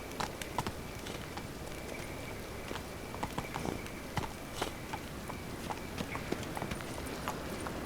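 Hooves of Roach, the horse in The Witcher 3 video game, clop along in a steady trot, close and fairly loud over a faint ambient bed, with no talking.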